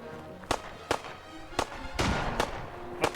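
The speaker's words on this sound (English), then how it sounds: "Sounds like something semi-automatic and something with a laser." Distant in-game gunfire in Fallout 4, a mix of semi-automatic shots and laser weapon blasts, heard as about six sharp separate cracks spaced irregularly over a low ambient bed.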